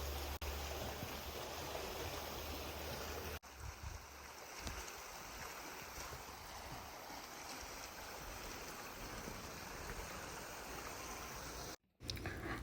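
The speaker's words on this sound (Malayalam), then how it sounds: "സൈഡിൽ നിന്നൊക്കെ വെള്ളം വീഴുന്നുണ്ട്." Steady rush of clear river water flowing and spilling down from the sides beside a walking path, a continuous broadband roar that stays close and even throughout, briefly dipping near the end.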